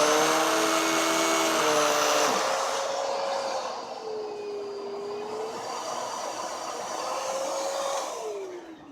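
A Kenmore Elite Crossover canister vacuum runs with a steady, loud motor drone whose pitch rises and falls as the suction control is adjusted.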